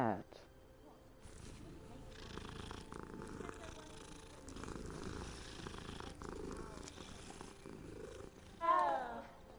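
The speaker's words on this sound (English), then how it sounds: "Cat." A cat purrs softly in Hogwarts Legacy, a faint continuous rumble beneath game ambience, with speech nearby and a short louder vocal burst near the end.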